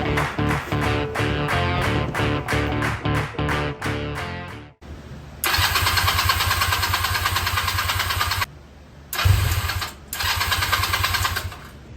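A go-kart engine is cranked repeatedly but does not start: a fast series of pull-start cranking bursts, then longer loud churning attempts broken by short pauses. Each attempt is close and loud and dies away without catching.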